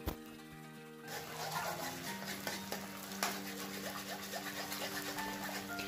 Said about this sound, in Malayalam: ഇനി ഈ മുട്ട നന്നായിട്ട് ഇളക്കിയിട്ട് ഇതിങ്ങനെ ഈ മസാലയായിട്ട് മിക്സ് ചെയ്ത് കൊടുക്കാം.